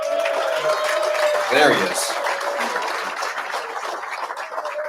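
A ballroom crowd at a Navy rugby alumni Hall of Fame gathering claps for an inductee, a light, scattered round of applause under someone speaking briefly.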